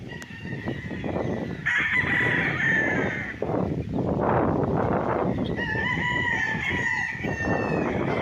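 Chickens on a farm lot in Pagsanjan, Laguna, with several roosters crowing in overlapping, drawn-out calls over a dense, continuous bed of clucking and rustling, fairly loud and close.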